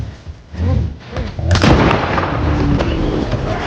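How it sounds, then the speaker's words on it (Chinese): Hunting rifle shot in a film scene of a man fighting a brown bear in the wilderness, a loud sharp blast bursting out after a low rumble and rolling into a sustained noisy tail. "枪声又再次激怒了这头巨兽"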